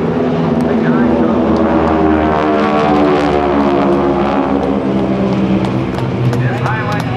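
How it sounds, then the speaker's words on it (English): GEICO Skytypers propeller airplanes with 600 horsepower engines and big Hamilton Standard propellers fly in formation at an airshow, a loud continuous droning roar with shifting tones and an announcer talking over it. "600 horsepower engines swinging big Hamilton standard propellers, making a great sound"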